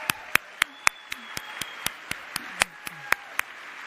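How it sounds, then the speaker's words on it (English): At a teachers' union conference, an audience claps in a slow, steady rhythm: sharp, evenly spaced claps about four per second, separated by quieter gaps, with a faint sustained tone running underneath. "Everyone, please, another round of applause for the very talented Jason Afori"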